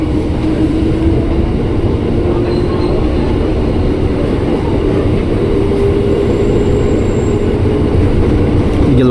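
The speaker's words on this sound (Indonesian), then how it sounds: "ada pemuteran tujuan Kampung Bandan juga yang masuk ke jalur 2 stasiun" A KRL commuter train rolls into track 2 at Manggarai station in Jakarta, a loud, continuous rumble of wheels on rail with faint squeals mixed in, sustained from start to finish.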